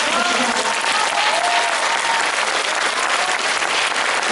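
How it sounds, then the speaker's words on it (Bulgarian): A gala concert audience in Ruse applauds steadily, dense clapping from a large hall holding an even level throughout with no voices on top. "А сега да аплодираме Светло Стойчев"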